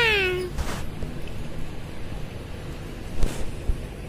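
A single short cat meow at the start, then wind and outdoor noise with faint bumps.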